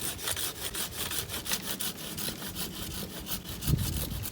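A pruning saw cuts through a pear tree branch in steady, rapid back-and-forth strokes, the rasping rhythm continuing close and alone throughout, with a heavier thump near the end.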